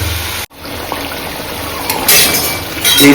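Water is poured into a pan of spiced potato and egg curry, giving a brief clink and then a rising hiss and sizzle of liquid hitting the hot pan, loud and close.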